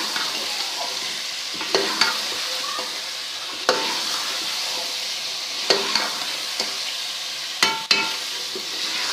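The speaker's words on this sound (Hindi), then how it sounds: "भून लेते हैं।" Chicken stirred and fried in a pan for a chicken and halwa recipe, a steady close sizzle broken by several sharp scraping clicks of the spoon against the pan.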